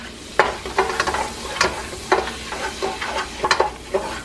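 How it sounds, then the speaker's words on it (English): A tablespoon of flour cooks in melted butter like a roux, sizzling steadily as a utensil stirs it, with sharp scraping strokes against the pan recurring every half second or so, close and clear. "Cook the flour a little."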